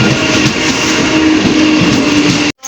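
A loud, steady rumble of a train entering a station fills the clip with a continuous mechanical roar, cutting off abruptly near the end.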